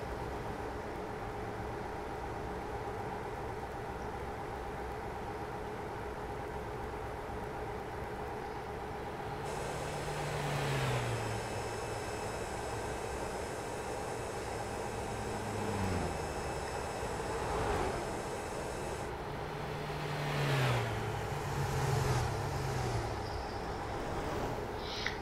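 A Kenworth truck in American Truck Simulator drives in a multiplayer convoy, with a steady engine drone and low rumble throughout, while tonal engine notes rise and fall as it shifts and accelerates, and no voices are heard.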